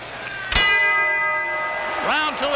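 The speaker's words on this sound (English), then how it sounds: "Round 2 is over as they both miss haymakers at the bell." A boxing ring bell clangs to end the second round of a professional fight, one loud ringing strike that decays slowly, then a couple of quicker strikes, under a steady crowd roar with a commentator talking.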